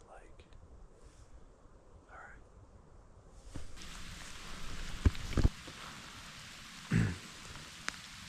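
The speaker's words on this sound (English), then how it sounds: "So it's just before 8 and it started raining." Rain starts falling at a winter camp during a Georgia deer hunt, a faint hiss that thickens partway through with a few louder drops and rustles, and a brief murmured voice near the start.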